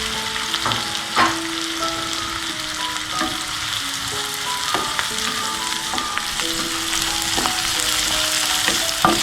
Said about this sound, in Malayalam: നമുക്ക് എടുത്തു വെച്ചിരിക്കുന്ന സവാളയില്ലേ അതിട്ട് കൊടുക്കാം.